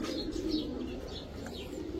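Male Belgian-bloodline pied racer pigeon cooing softly and close, a low continuous throaty coo over faint background noise.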